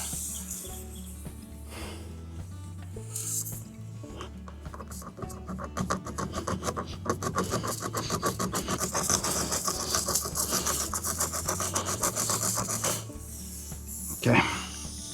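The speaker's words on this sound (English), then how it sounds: "So now, ream it out." A reamer tool grinds in and out of a puncture hole in a tire during a plug repair: close, rapid rasping strokes build in a steady run, with a voice talking faintly under it.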